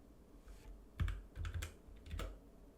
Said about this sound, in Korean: 다시 원을 실행해서 24 엔터 하시고